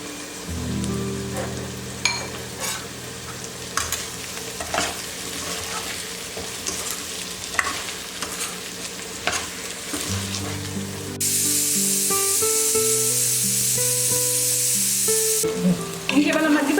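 Bottle gourd pieces with ginger paste and salt cooking in a pan, part of a South Indian thali. A steady close sizzle with scattered pops runs throughout, and it grows louder and hissier near the end over soft background music.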